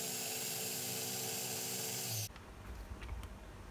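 An electric food chopper grinds spice paste for a rice dish with a loud, steady, high-pitched whir for about two seconds, then cuts off, leaving quieter kitchen clatter.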